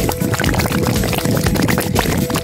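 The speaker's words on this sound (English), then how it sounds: "Then I'm pouring in the rest of the ice cream mix." Ice cream mix being poured into a popsicle mold holding gummy worms, a loud close sloshing liquid pour with irregular splashy bursts throughout, no voices.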